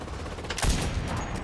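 Mounted machine gun fire from an MG bunker in a Hurtgen forest battle game rattles on steadily, a dense continuous burst with a heavier thump partway through, loud and unbroken.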